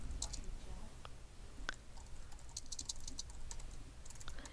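Quiet, quick keystrokes on a computer keyboard while entering the text of a multiple-choice quiz question, scattered light clicks in short irregular bursts against a low hum, with no talking.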